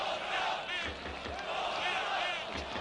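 Polish football fans chant in the stadium during a 1994 World Cup qualifier against the Netherlands, a broad distant crowd roar with rising chant lines under a commentator's voice.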